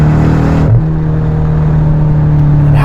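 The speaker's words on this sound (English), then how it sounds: "It has the sort of throaty gurgle at the back where you tap off the gas" A BMW M8 Competition fitted with particulate filters runs with a loud, throaty exhaust note that drops in pitch as the throttle is lifted, then settles into a low, steady burble.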